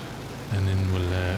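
The propeller engines of a Boeing 247D airliner from 1935 in MSFS24 settle into a steady, low, droning hum that kicks in partway through, with a voice talking over it.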